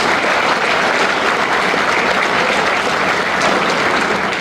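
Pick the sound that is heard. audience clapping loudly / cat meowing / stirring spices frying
audience clapping loudly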